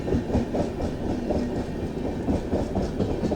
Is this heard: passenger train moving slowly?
yes